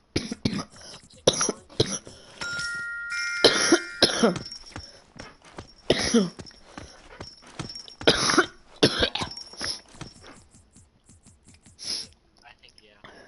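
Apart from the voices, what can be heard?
coughing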